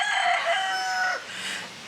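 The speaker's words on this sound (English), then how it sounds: "Cue the rooster." A rooster crows on a family homestead, one full cock-a-doodle-doo rising and trailing off, fairly close and clear, with a few softer clucks after and no talk.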